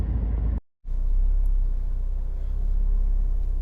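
A 2014 Honda CR-V 1.6 i-DTEC SR diesel on the road, a steady low engine and tyre rumble heard from inside the cabin, broken by a brief dropout near the start, then continuing evenly with no talk.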